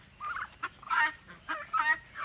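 Turkeys gobbling in a farmyard pen, a few short warbling calls in quick bursts at moderate distance, with no talk.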